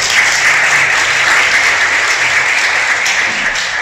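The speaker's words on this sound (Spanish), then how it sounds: "Denle un aplauso, pues." Church congregation applauding, steady, loud and dense clapping filling a hall for a few seconds with no voices over it.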